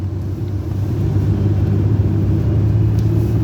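Low steady engine rumble of a car on a road, heard close and continuous with a slight rise in level, no talking.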